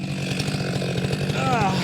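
A chainsaw runs steadily nearby during firewood cutting of pin oak, its buzzing drone continuous and fairly loud with a brief pitch wobble near the end.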